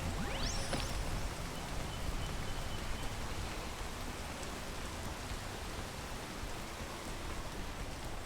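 Steady, dense rain hiss from the video game PEAK, with a brief rising whoosh near the start, then an unbroken wash of broadband noise that stays even and fairly loud throughout, with no voices.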